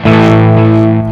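An electric guitar played through a Vox amp preset on a LEKATO Tank G multi-effects processor, a single sustained distorted chord ringing with reverb for about a second, loud and alone.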